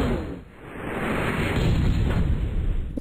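Air gun attack firing in the MechQuest video game, a sustained rushing blast that swells over about three seconds and holds loud, with a sharp pop near the end.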